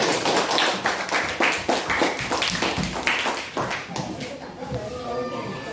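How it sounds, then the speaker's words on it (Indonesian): Students in a classroom clap for a presenting group, a ragged run of sharp claps in uneven rhythm, close and fairly loud, with children's voices chattering underneath as the clapping trails off. "Ayo tepuk tangan untuk kelompok 1."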